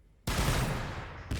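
Grenade volley firing in the Warhammer 40k Battlesector video game: after a quiet moment, a sudden loud burst of overlapping explosive blasts rolls on for about a second, followed by a second sharp hit at the end.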